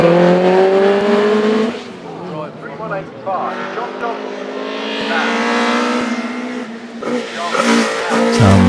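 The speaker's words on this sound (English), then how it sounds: "John Dobson next with the Lotus Elan Plus 2" A Lotus Elan Plus 2 hillclimb car with a spaceframe chassis, a QED-modified BDT engine and a Quaife four-speed gearbox runs at Shelsley Walsh. The engine revs hard, dips and climbs again through gear changes, close and loud.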